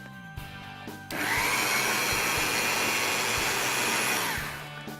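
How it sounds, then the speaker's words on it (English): A Rotovac carpet cleaning machine with two counter-rotating heads at 250 RPM sprays, scrubs and vacuums a carpet, its motor roaring up into a steady loud whine for about three seconds before tapering off, close and alone. "with the Rotovac, the motors are doing the work, and it's spraying, scrubbing, and vacuuming out simultaneously"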